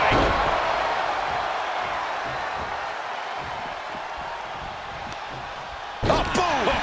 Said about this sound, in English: Diving hammer strike.